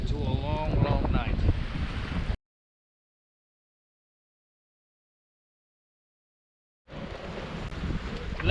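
Wind blows hard over the microphone on a sailboat at sea during a Mediterranean crossing, a loud, rough buffeting in two bursts with a long silent gap between them.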